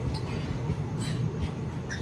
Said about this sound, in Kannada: ಟ್ರೈನ್ ಇವಾಗ ಹೋಯ್ತು